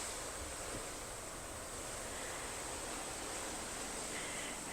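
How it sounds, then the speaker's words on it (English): Ocean waves heard from a balcony suite in Salaverry, Peru, a steady broad wash of distant surf with a faint hiss and slight wind, no talking. "Nothing like waking up to that ocean view, the sound of the ocean."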